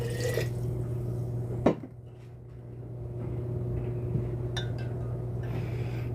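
Water is poured into alcohol to dilute it, giving a liquid splash and trickle into a glass vessel followed by quiet drips and small clinks against a steady low hum.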